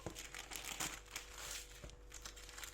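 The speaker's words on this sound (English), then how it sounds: "And then I just fold it all over." Baking paper crinkles and rustles softly as it is folded over a piece of gauze, with a few quiet close-up crumpling bursts over a low steady background hum.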